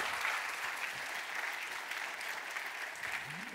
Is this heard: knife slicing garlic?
no